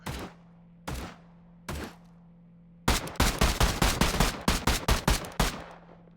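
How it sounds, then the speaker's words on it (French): Gunshots at shooting practice: three single sharp shots spaced about a second apart, then a rapid burst of a dozen loud cracks fired in quick succession before stopping. "Moi et Brad, on tire."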